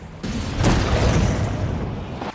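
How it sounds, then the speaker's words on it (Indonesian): Explosion from a rocket striking a car in the film Sicario: a sudden heavy broadband blast that swells into a loud, sustained rumbling roar and holds for about two seconds before cutting off, with no speech. "Namun tiba-tiba polisi setempat malah menyerang dan sebuah roket menghantam mobil mereka."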